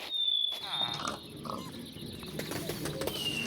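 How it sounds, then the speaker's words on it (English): Pigs grunt in a farm-building video game, a few short low snorts and oinks set against soft ambient game sounds and a thin high tone, moderately close and not loud. "Just a couple of pigs."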